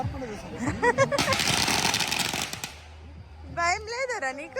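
Diwali firecrackers bursting at a celebration in the USA: a dense burst of crackling pops and bangs in the middle, with people talking before and after the bursts.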